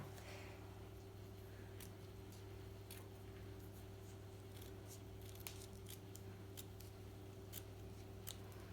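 Scissors snipping off the bottom of a calla lily bouquet's stems: a series of sharp, quiet cuts over a steady low hum, close by.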